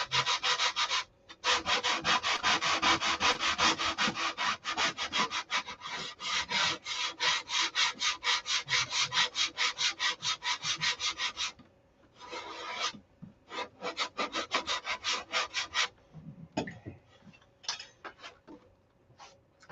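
Sandpaper rasping steadily along the wooden trailing edge of a model beam wing, close and loud in long rhythmic strokes, pausing briefly near the middle and again toward the end, with no voices.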